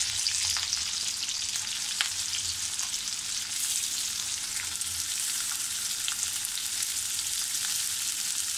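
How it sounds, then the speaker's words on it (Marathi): Onion and green chillies frying in oil in a pan, a constant close sizzle with scattered crackles and occasional stirring ticks, no voices. "त्याच्यामध्ये आता कांदा टाकायचा आहे।"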